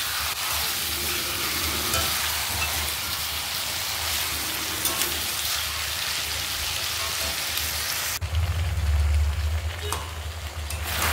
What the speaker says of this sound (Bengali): এই যে আমাদের চিকেন কষানো রেডি, তেল ছাড়তে শুরু করে দিয়েছে